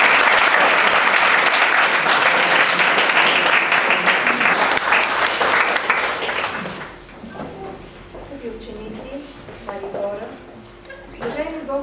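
Audience applause at a national youth gathering in Vratsa: dense, loud clapping for about seven seconds, then it fades away and a few voices and stray sounds are heard.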